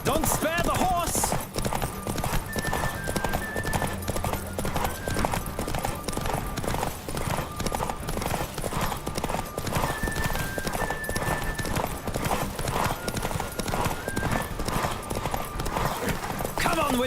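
Horse hooves clip-clop at a gallop during a Witcher III horse race, a fast steady rhythm with occasional neighs and whinnies, while voices talk over the running.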